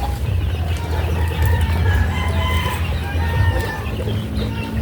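Small egg-laying chickens on a family farm, raised for an egg business, cluck steadily and busily at close range, several birds overlapping continuously over a low background hum.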